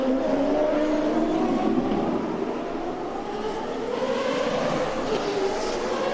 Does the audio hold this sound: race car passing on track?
yes